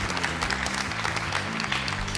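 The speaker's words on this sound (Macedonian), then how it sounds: "Може еден аплауз за следните надпреварувачи" Studio audience at a family quiz show applauding incoming contestants, a dense and steady burst of clapping from a crowd, close and loud, lasting the whole moment.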